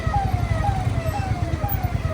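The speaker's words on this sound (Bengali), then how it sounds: "আরে অ্যাম্বুলেন্সটা ছাড় ভাই, অ্যাম্বুলেন্সটা ছাড়।" A wailing ambulance siren sweeps up and down repeatedly over a rumbling engine and traffic noise at a signal, loud and close.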